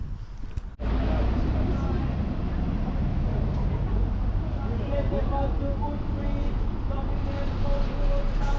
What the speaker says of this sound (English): So I'm now going to go get on a bus down to Wood Green.